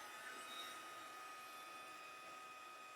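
A heat tool blows steadily while warming embossing powder on paper for a craft project, a continuous whirring hiss that stays constant and fairly loud, with no talking.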